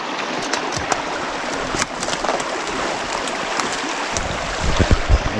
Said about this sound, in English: Got to the creek.